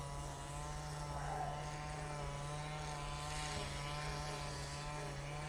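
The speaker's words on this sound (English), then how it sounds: "This is the Ryanair coming in from Rome now, using the 737-800" A Ryanair Boeing 737-800 arriving from Rome into Manchester Airport, heard as a steady, moderately loud jet rumble with a constant low hum throughout, no voices.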